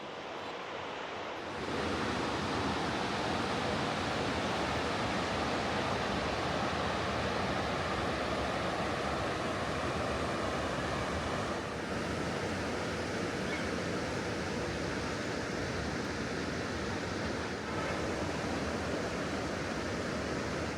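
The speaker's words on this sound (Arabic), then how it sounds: "بس تطلعوا من الكوخ لحالكم بتسمعوا صوت النهر" Rushing river water flows steadily just outside a hut in India, a dense, unbroken wash of noise that sets in abruptly and holds at a loud, even level with no voices.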